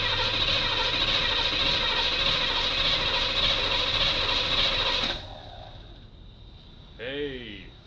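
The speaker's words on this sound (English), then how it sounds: "Cranking." Starter on a 3rd gen Camaro cranks steadily with a loud whirring, ratcheting churn for about five seconds without catching, then stops and leaves a quiet room, with a brief voice near the end.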